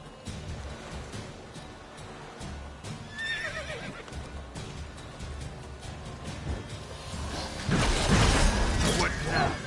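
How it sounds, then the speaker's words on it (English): Horse whinnying in The Witcher 3 game, a short rising neigh partway through over busy game ambience, with a louder burst of clatter and noise near the end. "Whoa there, Roach."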